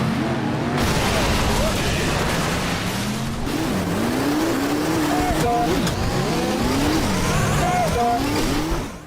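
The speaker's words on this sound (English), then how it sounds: "most of the time you're crashing into other cars in an arena" Cars in a demolition derby video game arena race and collide, engines revving and whining in shifting pitch with tire squeals throughout, loud and continuous under a narrator's voice.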